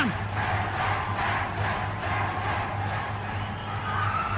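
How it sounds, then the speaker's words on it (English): Hurling crowd at the 1973 Munster Final between Limerick and Tipperary, a distant rhythmic chant pulsing steadily through the stadium noise, heard faintly over a radio broadcast with low hum. "Listen to the crowd. Chant,"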